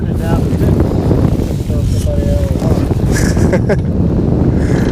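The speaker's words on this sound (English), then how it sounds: "Where'd this wind come from?" Strong wind buffets the microphone out on a fishing boat on open water, a constant loud rush with a brief voice or two underneath.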